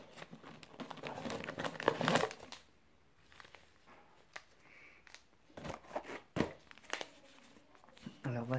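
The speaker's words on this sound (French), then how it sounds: "Mais là, on va ouvrir la petite boîte de thé." A small box of tea is opened by hand, giving close crinkling, rustling and tearing of packaging in irregular bursts with quieter pauses between.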